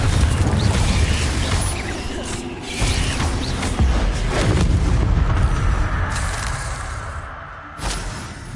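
Confringo fire spell explosions in the video game Hogwarts Legacy boom and roar continuously, dense and loud, with rumbling blasts and crackling debris throughout and no gap.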